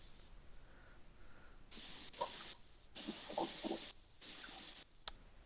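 A kitchen sink tap runs in bursts, picked up faintly by a distant headset mic as steady static-like hissing spray that starts and stops several times, with a low murmur under it.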